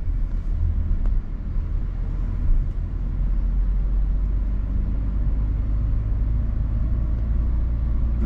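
A manual car crawls slowly in first gear across a parking lot, its low engine and road rumble steady and close throughout with no voices.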